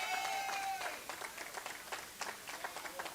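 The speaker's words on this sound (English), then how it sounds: "y'all give her a round of applause" Audience at a Texas Legislative Black Caucus community conversation breaking into applause, a brief burst of many hands clapping that thins into scattered claps, with a voice faintly over it.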